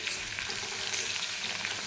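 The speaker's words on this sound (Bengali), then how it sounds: "এটাকে একটু হলুদ লবণ দিয়ে ভাজতে দেবো এটা ভাজুক" Ridge gourd frying in a pan with turmeric and salt makes a soft, even hiss of sizzling oil that runs steadily throughout, fairly quiet and close, with no talking.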